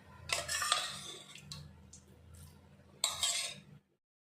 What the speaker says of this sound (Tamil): பலாப்பழம் நல்லா ஆறிடுச்சு. இதை ஒரு மிக்ஸி ஜாருக்கு மாற்றிடலாம்.